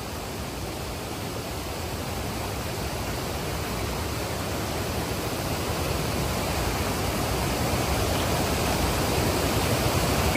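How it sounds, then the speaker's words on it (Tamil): Water pours steadily over a small dam on the Sankarabarani River, a dense, loud, continuous rushing roar that holds unbroken throughout with no voices. "தண்ணி இந்த ஓடுறதெல்லாம் செம்மையா இருக்கு"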